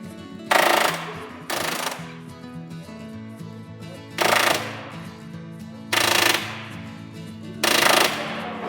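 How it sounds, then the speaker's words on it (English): A pneumatic rivet gun drives rivets into aircraft sheet metal, heard as five loud, close, rapid hammering bursts of about a second each, separated by short pauses filled with low machine hum. "They're about to drive a rivet here"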